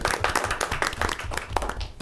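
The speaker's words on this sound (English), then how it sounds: "A huge round of applause for them." Applause at a school district board meeting honoring students, a dense, steady patter of many hands clapping throughout, moderately loud and sustained.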